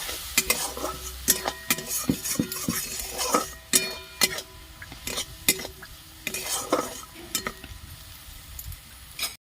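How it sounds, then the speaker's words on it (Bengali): Turmeric, salt and a little sugar sautéed in a hot pan as the base of a vegetarian fig curry, with a spoon scraping and clinking in brisk, irregular strokes over a steady sizzle, close up and without speech. "ভালো করে কষিয়ে নেবো"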